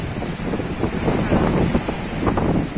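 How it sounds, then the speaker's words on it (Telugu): Sea waves wash onto a beach in Kuwait as a continuous rushing surge, heavily mixed with wind buffeting the microphone, loud and close with no clear talking. "నీళ్ళు అయితే బాగా వచ్చేస్తున్నాయి ఫుల్ వాటర్"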